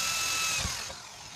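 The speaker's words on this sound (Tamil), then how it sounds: "இப்போ ட்ரில்லிங் பண்ணிக்கலாம்." A power drill whirs steadily with a thin high whine, drilling holes in an STK4231 IC amplifier board, fairly quiet and close, running continuously for the short moment.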